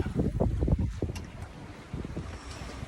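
Gale-force wind buffets a 30ft sailboat offshore on the Pacific between Neah Bay and San Francisco, a loud, steady rushing roar with gusty low rumbles and no voices.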